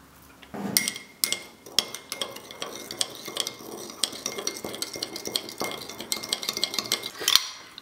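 A spoon stirs gummy candy kit mixture with water in a mug, producing a steady run of close, bright clinks and scrapes against the sides, alone with no talk.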